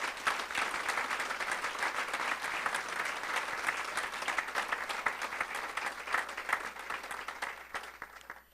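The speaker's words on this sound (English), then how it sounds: "let's have one more round of applause for all of our scholarship winners" A breakfast awards ceremony audience gives a sustained round of applause for scholarship winners, with steady, moderately distant clapping from many hands that fades out at the end.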